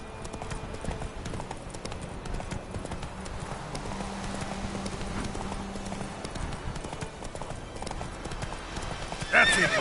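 Roach the horse gallops in The Witcher 3 with steady rhythmic clip-clop hoofbeats and a whinny, loud and continuous, over game ambience and a steady hum, and a brief burst near the end.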